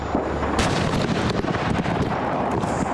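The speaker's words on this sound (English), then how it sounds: "a large explosion rocked the scene as the fire reached a new section of fireworks" A loud, continuous rumble of blasts and crackling pops from a burning fireworks facility in Esparto, dense and heavy throughout with sharp bursts mixed in.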